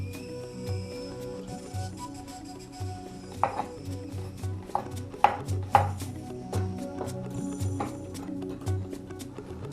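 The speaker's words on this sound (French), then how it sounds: "il faut le découper en tout petits morceaux également, comme les autres" Knife chopping mushrooms into very small pieces on a board for Cameroonian mushroom egusi soup, a run of quick, irregular close taps with a few louder chops, over steady background hum.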